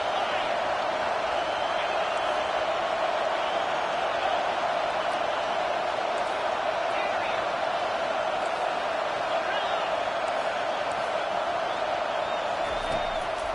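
Steady crowd roar fills a football stadium at a Bethune-Cookman vs Hampton game as fans cheer on the defense before a big third down, a continuous, even wash of noise with a commentator talking over it.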